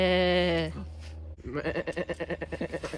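Goat bleating at an animal sanctuary, a long wavering nasal bleat close by, followed by another animal's rhythmic pulsing calls in a busy, noisy setting.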